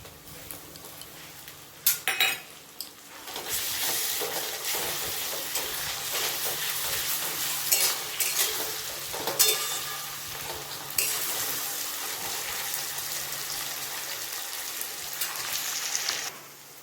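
Onion, ginger and garlic paste fries in a pan, sizzling and crackling steadily for a long stretch, with occasional scraping and clinking of a utensil stirring, no talking.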